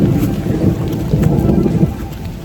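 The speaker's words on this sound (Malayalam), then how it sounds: "ഇടിയെടുക്കുന്ന കേൾക്കുന്നുണ്ടോ?" Low thunder rumbles steadily through a light rain in a Thai village, the rain's patter continuous and the rumble rolling at a moderate distance, with no voices.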